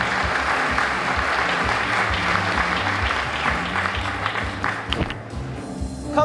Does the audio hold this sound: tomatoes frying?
no